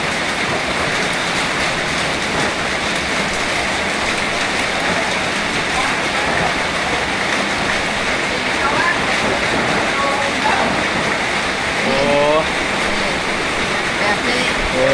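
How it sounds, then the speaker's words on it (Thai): Rain falling steadily outdoors during a village alms-giving on the first day of Buddhist Lent, a constant broadband hiss of downpour on surfaces with faint voices in the background. "ฝนมันตกนี่แหละ"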